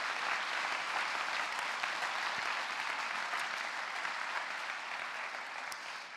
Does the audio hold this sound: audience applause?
yes